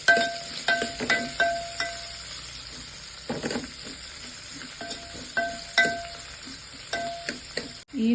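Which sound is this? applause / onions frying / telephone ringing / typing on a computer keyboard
onions frying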